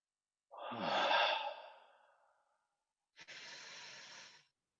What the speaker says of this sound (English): Let's get a nice slow breath.